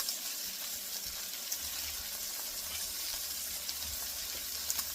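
Chicken and sausage frying in a pot for Cajun gumbo give a steady, close hiss of sizzling fat, continuous and fairly loud throughout with a few faint pops and no voices.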